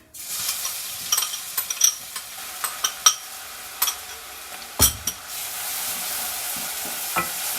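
A ginger, garlic and green chili mixture fries in a pan for baingan bharta, with a soft steady sizzle broken by repeated scraping stirs and clicks of the spoon against the pan.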